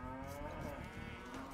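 Cattle in the Age of Empires 2 video game give a single drawn-out moo, low and steady, fairly faint and heard on its own without talk.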